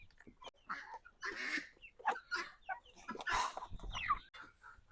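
Chickens, ducks and turkeys gathered close by make irregular bursts of clucking and squawking calls, overlapping one another throughout.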